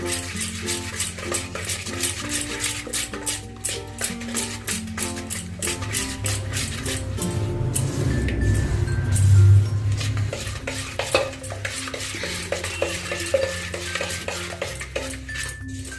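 A spoon stirs salt into the mixture for an eggless Christmas fruit cake, giving steady, close scraping and light clinking against the bowl in a continuous rhythm, with no talking.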